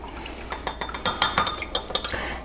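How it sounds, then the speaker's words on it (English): A spoon stirs lemon juice in a small dish to fish out the seeds, giving a quick series of bright metallic clinks and scrapes, close and alone, about a dozen taps in irregular rhythm. "I'm just stirring out the seeds out of here."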